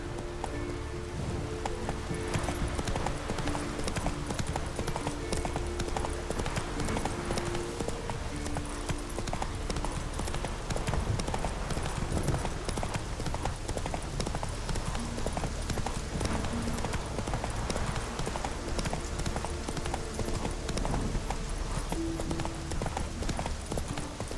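Roach, the horse in The Witcher 3, gallops with a steady, rapid clip-clop of hooves close by for the whole stretch, mixed with a constant rain-like hiss and rustle.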